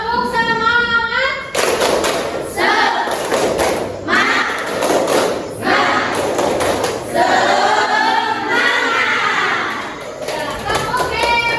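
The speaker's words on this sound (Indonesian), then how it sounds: "Tepuk semangat." Classroom students doing a rhythmic clapping chant in a lesson, sharp group claps in quick patterned bursts mixed with children's chanted voices, loud and close, repeating in several rounds.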